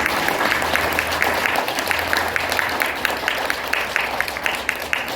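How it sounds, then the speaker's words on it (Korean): An audience at a lecture by a former police chief applauding, a loud, sustained burst of many hands with individual sharp claps standing out, continuing throughout with no talk over it. "다시 한번 큰 박수 부탁드리겠습니다."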